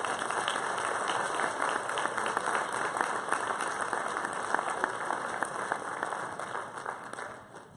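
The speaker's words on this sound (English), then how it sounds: "Let's give them another round of applause." A crowd at a high school athletic varsity ceremony gives a long round of steady, even applause, with dense clapping at a constant level that fades away near the end.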